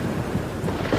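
Heavy rain with a low thunder rumble in a Hindi children's cartoon about a bird, a continuous dense wash with a deep rolling undertone across a very short moment.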